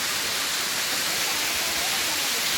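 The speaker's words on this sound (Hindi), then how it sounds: "ये हूँ खुलुड़ी वाटरफॉल देखो ऊपर पानी पड़ुची" Khuludi waterfall near the Khuludi Mahadev Temple in Odisha roars as water falls from above, a loud, dense, unbroken rushing hiss heard close with no talk.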